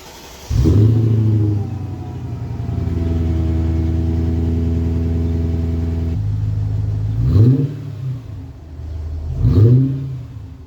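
A Mercedes luxury SUV, an auction purchase with collapsed air suspension, cold-starts with a sharp crank and loud flare, then settles into a steady close idle with two brief revs near the end.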